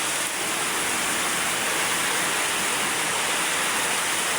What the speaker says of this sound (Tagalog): grabe ang lakas-lakas pa ng ulan